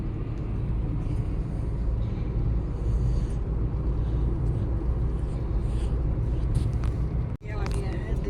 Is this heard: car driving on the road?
yes